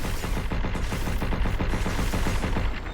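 A recoiling gun in the video game Pragmata fires continuously, a loud, dense, rapid rattle of shots with no break for three seconds.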